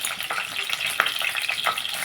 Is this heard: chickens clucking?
no